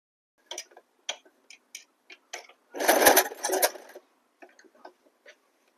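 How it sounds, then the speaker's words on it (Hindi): A sewing machine stitching pant fabric makes sparse single ticks and then one short whirring run of stitches, up close in a quiet room with no talking. "तो इस तरह करते हुए हम सेंटर में पहले एक सिलाई कर लेंगे।"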